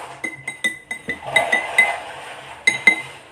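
A spoon stirs water tinted with drops of food coloring in a drinking glass, clinking against the glass in a quick, irregular series of about a dozen close, bright taps with no talking.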